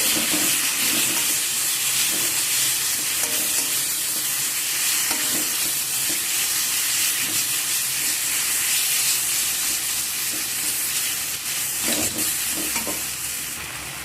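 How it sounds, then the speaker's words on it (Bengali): Ground cumin paste sautéing with prawns and jackfruit in a pan, a continuous close sizzle and hiss with steady stirring scrapes, no talking. "দিয়ে সব কিছুর সাথে ভালো করে আবারও কষিয়ে নেব।"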